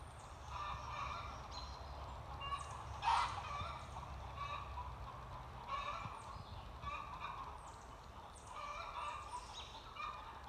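Several hens cluck and squawk in bursts, one calling out louder than the rest, over a low background hum, fairly faint.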